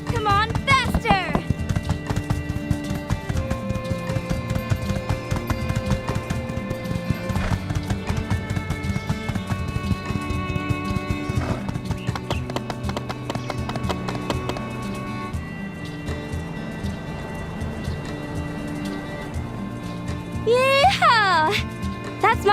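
Galloping horse hooves in the life-sim game My Time at Sandrock: steady, rapid clip-clop running under in-game music, with a whinny near the end while a person talks excitedly over the top.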